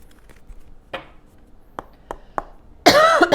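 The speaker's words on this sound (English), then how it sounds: "I'll try to cough away from the microphone if I can do my best." Several short, sharp coughs sound close by, spaced irregularly over a few seconds, followed by a louder burst of voice at the end.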